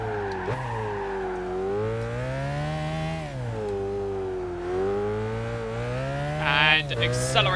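A race car engine in Gran Turismo 5 revs and accelerates, rising in pitch, dropping at gear shifts and climbing again, loud and close, with a brief tire squeal near the end.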